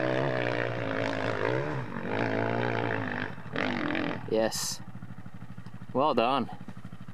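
A trail motorcycle climbs a hill during a weekend rally ride, its engine roaring and rising in pitch in several close bursts, with riders calling out encouragement over the sound.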